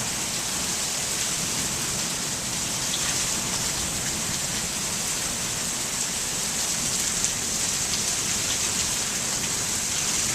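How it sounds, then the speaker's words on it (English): Heavy rainstorm in Goodyear, Arizona: a steady, dense roar of rain pouring on surfaces, constant and loud throughout with no talk. "it's a serious big rain here"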